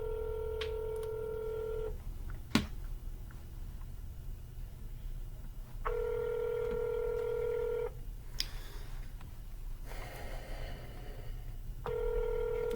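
Phone line tones during a real estate cold call: a repeating two-second ringback tone sounds three times with pauses between, plus a few brief clicks, faint and with no voices.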